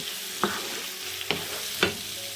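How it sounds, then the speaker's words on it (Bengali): Chicken being mixed with a spoonful of tikka or tandoori masala for chicken doner kebab, with three distinct scraping stirs spaced about a second apart over a steady faint sizzle, no voices. "চিকেন টিক্কা কিংবা চিকেন তান্দুরির যে মশলাটা থাকে সেটা ওয়ান টেবিল স্পুন পরিমাণ দিয়ে আবার ওগুলো মিশিয়ে নিচ্ছি"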